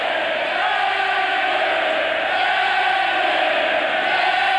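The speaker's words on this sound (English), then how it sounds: "And the crowd start to chant Henry." Crowd noise at a boxing match in Leeds Town Hall, a loud, continuous roar of massed voices that stays steady throughout, with no distinct chant rhythm picked out.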